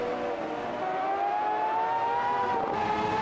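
A race car engine in a wet sim race at Brands Hatch holds a steady, rising tonal whine that stays loud and sustained throughout, with a brief dip near the end.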